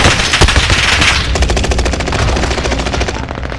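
Rapid automatic gunfire in the Warzone battle royale shooter, a loud, dense burst of fast shots that stays continuous from start to finish, with no talk over it.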